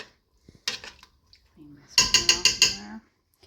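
Spoon scraping and clinking against a pot while thickener is stirred into simmering creamy wild rice soup, a short series of close, rhythmic metallic scrapes.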